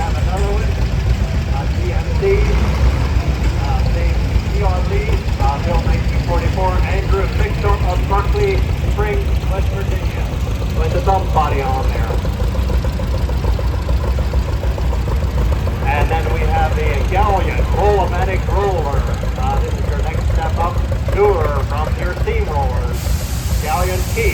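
A 1939 John Deere A tractor idles and rolls past in a parade of power, its low engine rumble steady throughout while an announcer's amplified voice talks over it almost the whole time.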